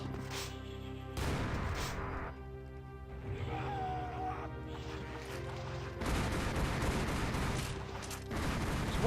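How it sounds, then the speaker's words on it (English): Explosions and gunfire in the game Heretic with the Trailblazer mod: dense, loud bursts of shots and booms one after another, with a sharp blast at the very end, no voice over them. "It's exploding."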